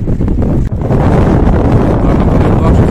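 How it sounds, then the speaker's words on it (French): Strong wind at Saint-Tropez roars steadily into the microphone, a continuous loud rumbling buffet with gusty surges, no voices heard. "il y a beaucoup de vent"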